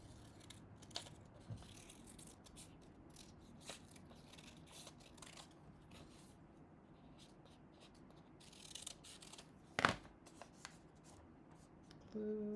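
Scissors snipping around a paper figure for a mixed media craft, soft intermittent crisp cuts and paper rustles close by in a quiet room, with a brief voice at the very end.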